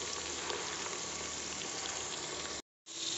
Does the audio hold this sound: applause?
no